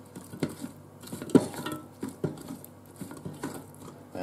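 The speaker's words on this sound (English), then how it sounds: "Gonna mix everything up a little bit." Pieces of chicken are stirred in a Ninja Foodi pot, with soft scrapes and a few louder knocks of a utensil against the pot coming at an uneven pace, close and fairly quiet.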